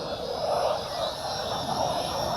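A5S Odin Sport drone flying with its wheels removed, giving a steady jet-like whine and roar that swells and fades slightly as it passes, loud and continuous with no talking.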